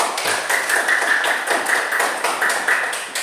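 Students in a classroom clap for a classmate's answer, a brisk patter of many hands over about three seconds with some rhythmic group beats, fairly loud and close, without speech.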